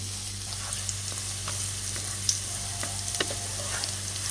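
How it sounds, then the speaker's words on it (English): Chopped onions frying over a medium flame in a pan, a steady close sizzle with faint crackles and occasional stirring clicks throughout. "on a medium flame, fry them until they are lightly golden brown"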